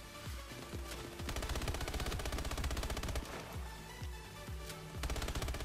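Rapid automatic gunfire from Call of Duty Advanced Warfare sprays the ground in sustained bursts, loud and steady with a few short breaks, no talk.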